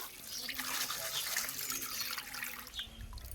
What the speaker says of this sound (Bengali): আমি একটু জল দিয়ে দিচ্ছি।